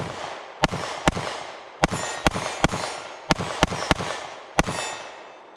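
A Sig P365 AXG Legion 9mm pistol fires about ten sharp, loud shots at an irregular quick pace, each crack ringing briefly in an open setting with no talking.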